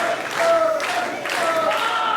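A wrestling crowd in a Canadian indoor event cheers and claps for the Canadian Superstars, a steady roar with swelling shouts and whistles.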